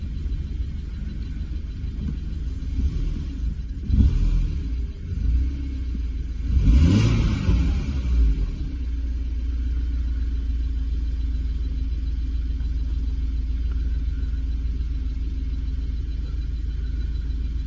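A BMW 1 Series E81 idles on old, stale fuel, a steady low engine rumble with a couple of brief revs near the start before settling into an even idle.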